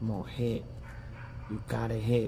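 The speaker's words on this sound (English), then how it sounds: "That dog, man, it won't stop." A dog barks repeatedly in the background, with short yapping bursts under someone talking close by.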